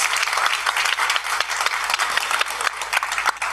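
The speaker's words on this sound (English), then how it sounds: "A round of applause for them, please." Audience applause at a youth food innovation finals event, many hands clapping in a steady dense burst with a few sharper nearby claps standing out.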